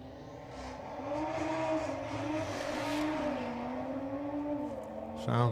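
Audi drag car at a drag strip start line, engine running loud and steady with a droning, slightly wavering pitch for several seconds, then a sharp surge at the very end as it launches.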